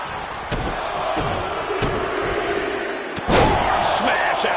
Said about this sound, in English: Arm smash after the stomps.